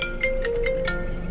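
A mobile phone ringtone plays briefly, a bright electronic melody of a few repeating tones at moderate volume with no talking over it.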